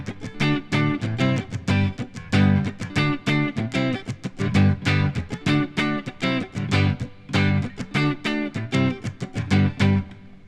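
Electric guitar plays the main riff of Steppenwolf's Magic Carpet Ride, a steady run of loud, rhythmic picked chords and notes repeating in quick bursts, close and alone with no talking.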